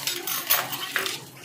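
A fork clinks against a bowl of ice cream in a few quick, bright metallic taps spaced about half a second apart, close and clear with no talking.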